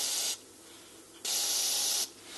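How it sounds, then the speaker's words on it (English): Deoxit contact cleaner sprayed from an aerosol can into the switch of a NuTone intercom, model 2057/2058: two short, close hissing bursts separated by a quiet pause. "all I'm going to do is spray a little deoxit in there"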